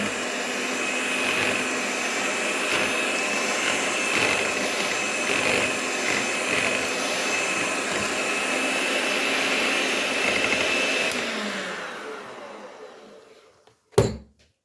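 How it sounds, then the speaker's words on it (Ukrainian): An electric hand mixer whirs steadily at high speed while whisking powdered sugar, a constant motor drone that winds down near the end and ends with a sharp knock. "Для цього візьму міксер і буду збивати, розмішую пудру."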